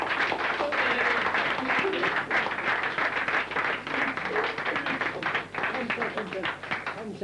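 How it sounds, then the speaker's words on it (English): A big round of applause from a crowd at a Limerick intermediate football final presentation, dense sustained clapping filling the room throughout, loud and close, with faint voices mixed in. "So I'd like a big round of applause."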